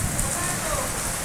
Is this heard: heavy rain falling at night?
yes